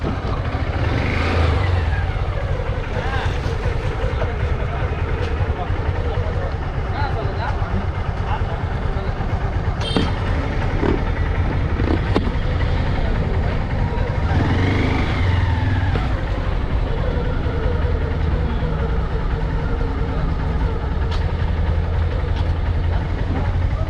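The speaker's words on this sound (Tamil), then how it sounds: "நிறையா வண்டிங்க வந்திருக்கு" Many vehicles idling and revving across a crowded cattle market at Vaniyambadi, a steady dense engine drone with passing surges throughout, voices talking underneath.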